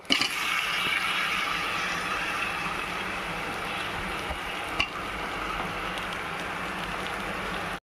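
Chicken pieces cooking in a pan with turmeric for a chicken curry, giving a steady broadband hiss and sizzle that holds evenly throughout, with a single brief clatter partway through and no talk.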